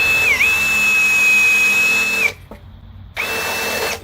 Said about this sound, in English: I'm going to lean on the drill in an unapproved way.